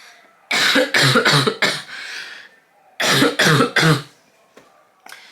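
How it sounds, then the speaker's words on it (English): Two bursts of harsh coughing, each a quick run of three or four hacking coughs up close, separated by a short pause. "That's gonna happen probably a few times because I have a horrible cough"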